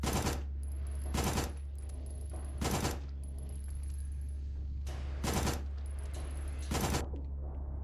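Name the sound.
gunfire from the video game Signalis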